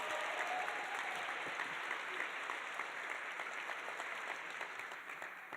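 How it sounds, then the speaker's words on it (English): A large audience at a medical Match Day event gives a steady, sustained round of applause. It is dense and even, with no talk over it. "one more big round of applause for Dr. Deebull."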